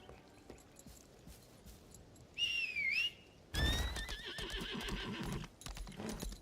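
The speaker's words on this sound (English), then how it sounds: "It's slow to mount your horse too, which is annoying." A horse in the video game Lost Ark whinnies with a rising, wavering neigh, then a second neigh follows over quick hoof clip-clops as the rider mounts, close and clear against a quiet game background.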